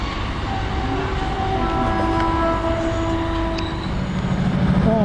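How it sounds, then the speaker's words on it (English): Passenger train running from Matlock to Nottingham, heard from on board: a steady rumbling roll with a continuous drone and faint tonal whines, fairly loud throughout and building slightly near the end. "This is the 1424 service that has come down from Matlock and is taking us back to Nottingham."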